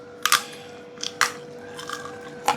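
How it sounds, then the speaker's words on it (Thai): Several crisp crunchy bites into eggplant, a sharp cluster near the start and more spaced out later, close to the mic with quiet chewing between. "กินมะเขือนี่มากเลย หวานกรอบ"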